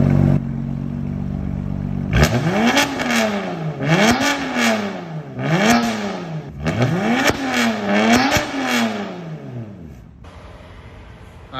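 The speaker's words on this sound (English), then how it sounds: "Rev it." Car engine with an Active Autowerke equal length mid pipe exhaust revved hard in four or five repeated bursts, each rising and falling, loud and close, with the idle settling at the end.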